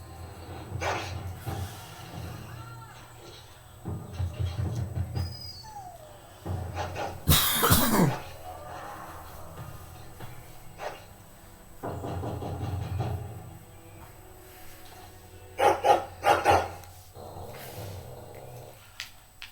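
A dog growls in a Dragon Age: Origins video game cutscene, with low rumbling growls coming in intermittent bursts among other game sounds and effects, at moderate loudness.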